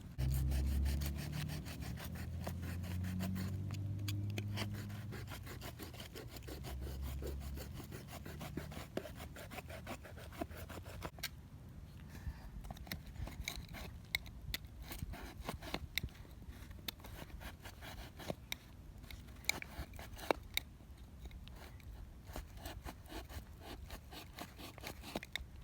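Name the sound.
slicing around a fibre plant pot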